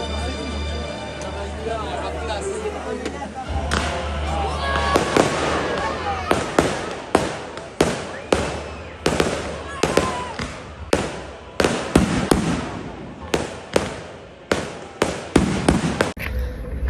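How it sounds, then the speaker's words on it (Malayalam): A night fireworks display in a medieval French village: a rapid series of sharp bangs and crackling bursts, some near and loud, with people talking and murmuring through the display. "അതുപോലെ തന്നെ രാത്രി വെടിക്കെട്ടുണ്ട്."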